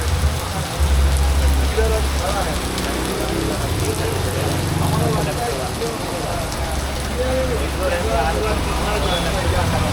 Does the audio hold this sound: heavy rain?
yes